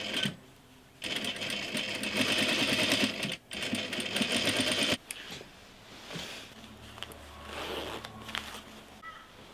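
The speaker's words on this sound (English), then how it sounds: "That red line is so that I can top stitch and get the shape really clean." A sewing machine top stitching jeans runs in two steady, fast-whirring bursts separated by a short pause, then gives way to quieter handling sounds; close and clear with no talking.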